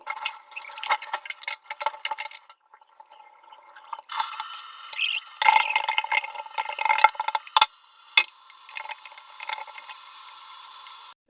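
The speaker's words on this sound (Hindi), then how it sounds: "पहले तो मैं बर्तन साफ करूंगी" Dishes being washed in a small home kitchen: clattering utensils, clinks and scraping of steel pots alongside running water in bursts, close and fairly quiet.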